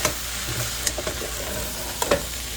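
Potatoes and corn being stirred in a pot for clam chowder: a constant hissing bubble runs beneath a few light knocks and scrapes of a utensil, heard up close with no talking.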